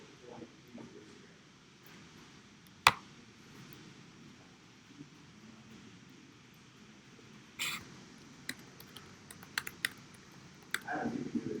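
Computer keyboard typing in a quiet room: scattered sharp key clicks, one loud tap early, then a denser flurry of keystrokes toward the end over faint background hum.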